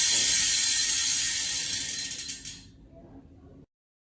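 A Lighter Pro disc brake wheelset on a folding bike spins freely, its hub freewheel ratchet giving a fast, close, continuous clicking that slows and fades over a few seconds before stopping abruptly.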